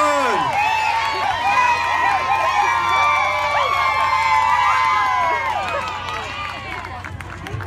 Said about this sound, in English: The more you clap, the louder you cheer, the faster my little piggies run